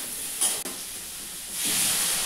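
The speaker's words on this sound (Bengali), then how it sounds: "এরপর ভালো করে কষাবো মশলার সঙ্গে। একটু কষিয়ে নিয়ে লবণ দিয়ে দিলাম।" Spices, potato and pointed gourd fry in a pan, giving a continuous broadband sizzle that swells louder toward the end, with a short stirring scrape early on and no talking.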